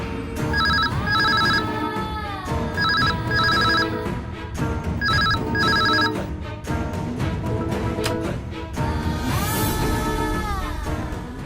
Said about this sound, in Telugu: మంగం అటెండ్ చేసింది